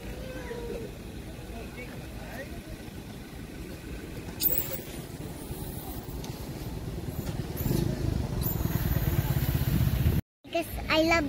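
A motorcycle passes by, its engine swelling louder as it nears and then cutting off, with faint voices in the background.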